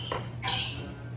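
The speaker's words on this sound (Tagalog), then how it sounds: "Si Angel, ang Rainbow Lori." A pet rainbow lorikeet squawks twice during a family breakfast at home, harsh and close, one short cry then a longer, louder one over a low background hum.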